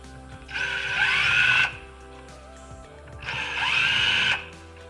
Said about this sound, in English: crack them loose by hand, zip them out by machine if you can